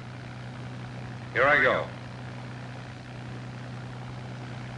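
A P-51 Mustang fighter plane engine runs warmed up before taxiing, a steady low droning hum throughout, with someone briefly speaking over it.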